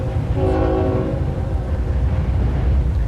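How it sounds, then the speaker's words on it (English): A train rumbles past close by with a heavy, continuous roar, and a brief horn blast sounds early on. "Oh, there's a train going by"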